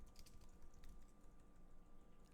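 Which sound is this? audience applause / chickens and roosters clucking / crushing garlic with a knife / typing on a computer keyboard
typing on a computer keyboard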